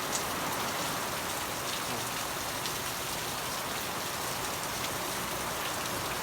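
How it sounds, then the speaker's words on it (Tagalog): Heavy, all-day rain pours steadily onto flooded ground, a dense, loud hiss of drops hitting surfaces with no pauses. "Maghapon nang umuulan."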